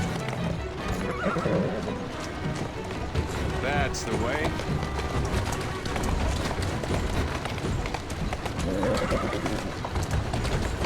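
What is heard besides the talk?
horse hooves and whinnying in a video game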